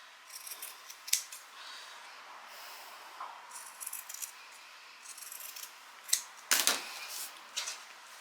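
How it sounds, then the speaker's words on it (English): Sewing scissors snip into the fabric corners of a bag at a 45-degree angle, giving a series of short, crisp cuts spaced irregularly, close and fairly quiet, with one sharper louder snip near the end. "We're going to snip those into those 2 corners at a 45-degree angle"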